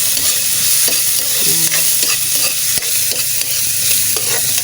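Vegetables for pancit being stir-fried in a hot pan, a steady loud sizzle with scraping stir strokes and occasional utensil clinks throughout, no talking.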